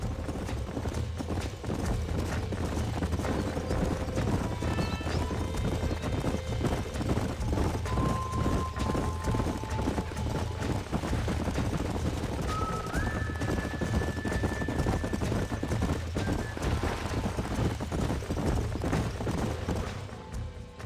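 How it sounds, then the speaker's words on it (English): Horse hooves clip-clopping steadily in a Red Dead Redemption ranch scene, a continuous rhythmic trot with occasional whinnies and faint ambient tones, moderately quiet and heard alone without talk. "These are fine horses."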